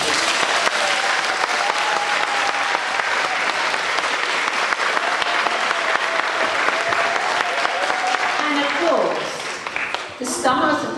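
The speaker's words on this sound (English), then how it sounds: "And you could give Sandy a really big round of applause." An audience at a primary school pop concert in a church gives sustained applause for Sandy. The clapping is loud and continuous for about nine seconds and then dies away, leaving a voice speaking at the end.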